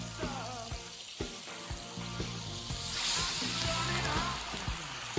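White wine splashes into a hot pan holding a rack of meat, setting off a steady close sizzle and bubbling hiss that carries on throughout, with faint kitchen clatter and a voice murmuring underneath.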